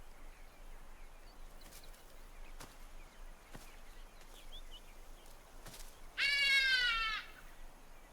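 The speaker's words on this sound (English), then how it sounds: "But her mother's call cuts her fun short." A lioness calling to her cub in the wild: one brief, clear call with a strained, tonal, meow-like quality near the end, rising out of faint outdoor ambience with scattered soft ticks.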